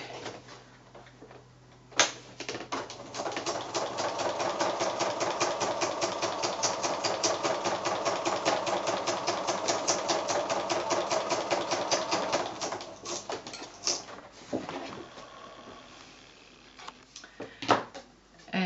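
Sewing machine stitching metallic thread through a fusible applique card, a fast continuous needle rattle running for about ten seconds, then slowing into scattered stops and clicks.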